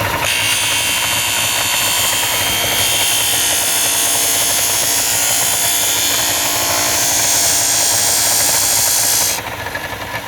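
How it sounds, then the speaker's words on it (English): A belt/disc sander runs loud and steady while wood stock is pressed against its sanding disc, a continuous whirring grind with harsh high hiss that drops slightly as the pressure eases at the end. "gently push it against the sanding disc"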